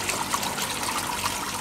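Water trickles steadily into a siphon test tank, a continuous close splashing and dribbling wash that stays even throughout, with no talking.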